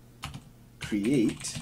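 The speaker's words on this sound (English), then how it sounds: "you can type Flixel" Keys clatter quickly on a computer keyboard as a command is entered in a terminal, while someone speaks over the typing.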